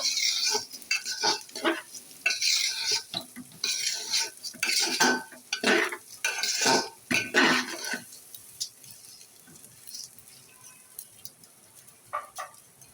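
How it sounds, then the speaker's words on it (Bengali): Rice frying in ghee for Basanti pulao is stirred in a pan, giving bursts of scraping and rattling strokes for several seconds before settling into a quieter sizzle with a few final scrapes. "না আমি এখন এই ঘিয়ে ভালো করে ভেজে নেব"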